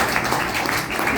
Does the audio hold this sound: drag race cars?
no